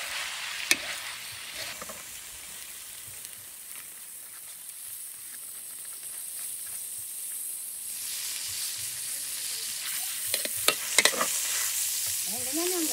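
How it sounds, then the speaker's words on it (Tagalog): Beef pigar pigar stirred with salt in a pan on the stove, giving a steady sizzle and scraping stir under a soft frying hiss, with a few sharper clinks near the end. "Halo-haloin lang natin yan."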